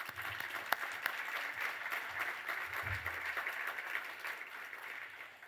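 A room full of people at a Power BI symposium claps for the organising team. The applause is steady and fairly soft, heard from a distance, with a few sharper claps popping out of the wash.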